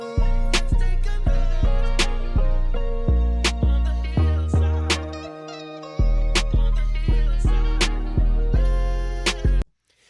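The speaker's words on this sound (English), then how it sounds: "So the 808 is probably the third key element in this record" In a hip-hop mix, deep 808 sub bass notes hit hard and sustain under a sampled beat. They arrive in a steady, looping pattern with heavy low-end hits and a short dropout midway.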